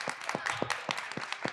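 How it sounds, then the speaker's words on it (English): A small audience at a theatre talk gives scattered applause for the parents of young actors, a handful of distinct, fairly close claps in a loose, uneven rhythm. "Can we give our grown-ups a round of applause?"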